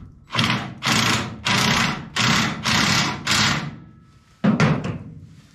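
Hitch bolt on a lawn mower trailer tightened with a ratchet, giving six loud, evenly spaced bursts of clicking, a pause, then two shorter bursts, close by with no talk.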